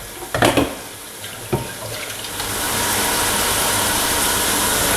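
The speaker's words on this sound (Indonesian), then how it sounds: "Nah bumbunya udah kering, kita akan tambahin air ya." Water is poured into a cooking pan of dried spice paste for soto tangkar, a beef soup, giving a steady loud rushing pour that swells and holds after a few clinks of utensils.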